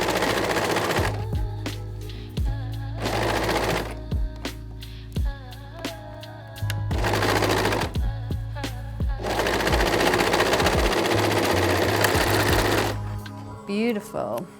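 Sewing machine running in several long stitching bursts while finishing a circular seam on a Kezia top, overlapping the stitches at the end. Loud and close, with short pauses between runs.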